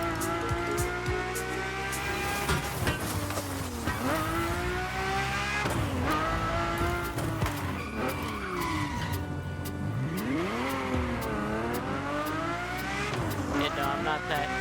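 Ferrari race car in The Crew Motorfest driving game, engine revving hard with rising and falling gear shifts and repeated tire squeals through corners, continuous and loud throughout.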